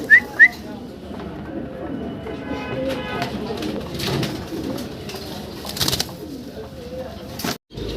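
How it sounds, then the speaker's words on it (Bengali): White short-face pigeons cooing in soft repeated calls, with people talking nearby and a couple of sharp brief sounds near the start. "খুব সুন্দর এক জোড়া আমরা শর্ট ফেস কবুতর দেখতেছি হোয়াইট কালারের ভিতরে"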